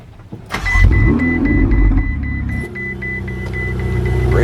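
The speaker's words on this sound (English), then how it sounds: "one's a V8 twin turbo engine" A Ferrari convertible with a mid-mounted twin-turbo V8 fires up with a sharp bark, then revs and settles into a loud, throbbing idle that steps up again before rising near the end.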